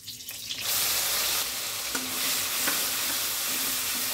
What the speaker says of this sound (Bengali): পেঁয়াজটা ব্রাউন করে নেব